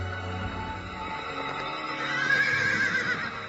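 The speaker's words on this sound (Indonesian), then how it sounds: "Kuda Aipat berlari paling kencang dan meninggalkan lawan-lawannya jauh di belakang." A horse whinnies over a steady rumble of galloping hooves during a race, the whinny rising and loud toward the end of the short stretch with no talk.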